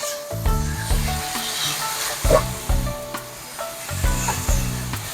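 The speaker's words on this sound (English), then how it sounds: "We will saute the broccoli. High flame." Broccoli sautéing on high flame in a wok for shrimp and broccoli in garlic sauce, with busy sizzling and stirring scrapes under continuous music with a rhythmic bass beat, and someone briefly speaking.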